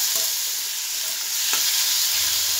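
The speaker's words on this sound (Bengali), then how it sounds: "চিকেনটা একটু ভেজে নেব।" Chicken pieces fry lightly in a pan for a chicken-and-vegetable dish, giving a loud, even sizzle up close with a couple of soft stirring knocks and no talking.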